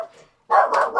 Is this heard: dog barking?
yes